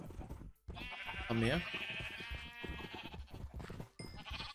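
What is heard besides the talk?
sheep bleating in the video game Minecraft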